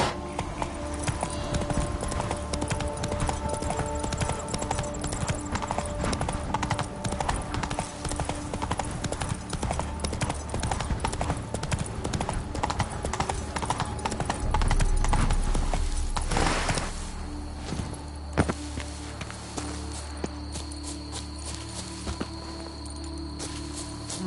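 Horse hooves clip-clopping at a steady trot in The Witcher 3 game, close and rhythmic over a rolling background, with a pause midway before the hoofbeats resume more sparsely.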